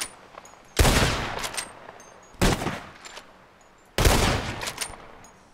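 Loud gunshots ring out in Red Dead Redemption 2: three separate heavy blasts, each followed by a long, fading rumble of echo, with quieter gaps between them.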